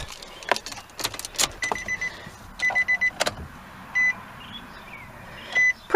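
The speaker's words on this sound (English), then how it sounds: "we'll go ahead and we'll start it up." A 2018 Nissan Sentra base-model rental car gives a series of short electronic chimes and beeps as it starts up, mixed with faint clicks and interior mechanical sounds in a quiet cabin.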